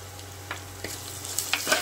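Crushed garlic sautés with onions in a pan for a prawn curry, giving a soft, steady sizzle broken by several quiet stirring scrapes, fairly faint and without voices.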